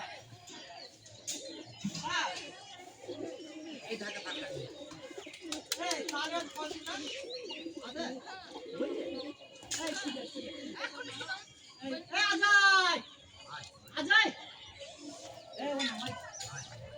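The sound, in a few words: pigeons cooing and flapping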